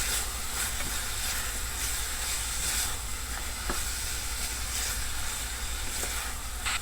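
Hotdogs frying in a pan for spaghetti, a loud, continuous close sizzle with steady hiss and occasional pops, and no talking over it.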